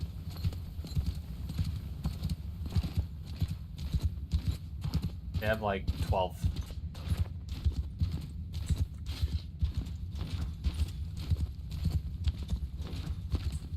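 Steady, rapid hoofbeats of many cavalry horses galloping in the video game Mount & Blade II: Bannerlord, a continuous drumming rhythm, with a brief whinny midway and a voice speaking over it.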